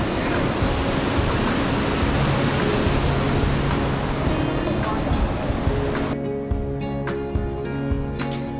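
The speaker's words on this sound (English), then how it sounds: "Waterfall. We were very close to waterfall." A steady, loud rush of a waterfall on the Cabot Trail roars close by without letup, with a voice briefly heard near the end.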